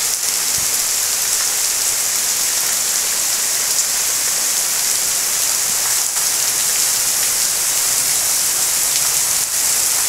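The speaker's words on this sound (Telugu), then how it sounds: "చూస్తున్నారు కదా, ఎంత హెవీ రైన్" Heavy rain pours steadily over a large garden, a dense, even hiss of drops on leaves and ground that holds at a constant loud level with no voices.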